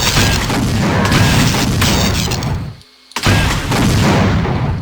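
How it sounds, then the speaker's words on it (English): Mortar launcher from the CUBE mod for Doom 2 firing a rocket that arcs under gravity, loud booming blasts with a roaring tail, cut by a brief silence before another heavy burst. "I call it the mortar launcher. And it's basically a rocket that's affected by gravity, as you can see."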